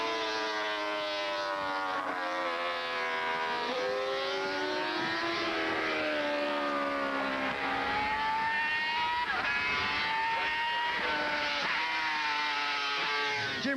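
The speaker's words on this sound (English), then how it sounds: "Another world champion, Ralph Bryans, makes a wobbly start on Honda's 6-cylinder 350" Honda six-cylinder 350 racing motorcycle at the Goodwood Festival of Speed, its high wailing engine note rising and falling through repeated revs and gear changes, loud and sustained, with several engines overlapping at times.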